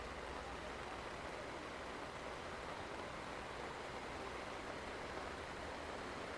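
Heavy rain pours steadily onto a football pitch during a match, a dense, continuous hiss with no pauses and no voices.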